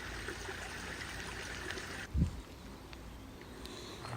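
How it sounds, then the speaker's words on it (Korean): A small stream trickles and flows steadily as it is crossed on a rainy New Zealand trail near Whakapapa, with a brief louder splash or footfall midway and soft water noise throughout. "저기 보이는 작은 시냇물 하나를 건넙니다"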